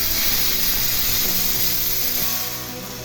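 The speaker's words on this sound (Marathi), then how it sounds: "भाजायला लागले की आवाज पण येतोय असं चढ चढ चढ" Mung beans dry roast in a pan, giving a steady dense crackle and sizzle that holds evenly and eases slightly toward the end, with no voices.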